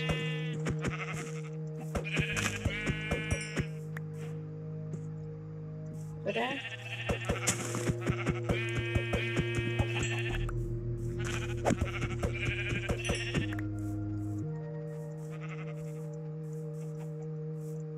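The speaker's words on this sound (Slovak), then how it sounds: "Okej, veľa oviec." Sheep in the Minecraft video game bleat several times over a steady game music bed with chiming notes, while a voice speaks briefly.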